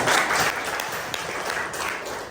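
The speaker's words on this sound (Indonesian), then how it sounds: "Kita tepuk tangan untuk dia." Junior high school students at a Catholic school applaud a classmate, a steady, fairly even patter of many hands clapping throughout, with no talk over it.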